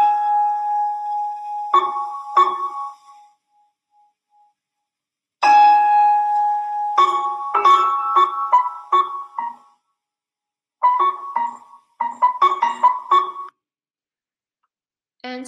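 Prepared piano free improvisation: bell-like metallic tones, clanging strikes and brief clusters of plucked, muted notes arrive in irregular bursts separated by silences. The piano is heard alone and close up.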